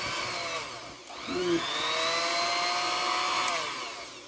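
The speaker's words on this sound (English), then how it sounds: "I love that little mixer" An electric hand mixer whirs with its beaters in whole wheat brownie batter, a steady close motor drone that dips briefly, then rises and holds before easing off, with no talk.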